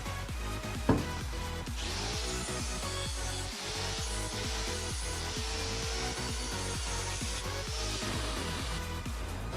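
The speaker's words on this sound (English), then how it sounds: "right now I'm going to cut a slit so that I can bend this" A power tool cuts a slit into a metal bracket during a BMW 335i single-turbo install, a steady grinding, rasping drone running continuously and close, with a sharp knock just before it starts.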